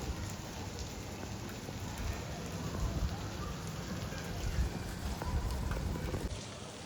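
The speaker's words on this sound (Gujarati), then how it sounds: "ઝરમર ઝરમર વરસાદ ચાલુ છે ગાઈસ બહુ નથી ચાલુ" Light drizzle falls outdoors on a hot day, making a soft, even hiss of scattered drops on wet surfaces, fairly faint and continuous with no talk over it.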